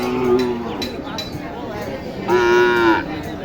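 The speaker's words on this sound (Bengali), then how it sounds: "এটা হচ্ছে বাজারের শেষ লাস্টের গরুটা" A cow moos twice, close by, with a pause between the calls, at the Sati Haat cattle market in Naogaon. Faint market chatter murmurs in the background.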